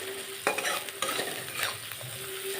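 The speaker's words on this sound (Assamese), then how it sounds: "যিহেতু পিঁয়াজখিনি ভাজা হৈছে, এতিয়া মাংসখিনি দি দিওঁ।" Meat going into onions and chillies already fried with turmeric and salt in oil, stirred around the pan: a steady sizzle with scraping stirring strokes and brief utensil knocks, close and continuous.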